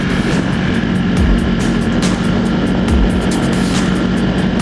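A Ducati Panigale R motorcycle cruising in sixth gear, with a continuous loud engine drone and heavy wind rush. Faint recurring bumps run beneath the steady roar.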